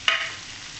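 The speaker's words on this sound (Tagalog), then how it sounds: "Gigisahin ko siya." Food hits a hot pan for sautéing and gives a sharp, close burst of sizzle that quickly fades to a faint hiss. The sound is brief and has no voices.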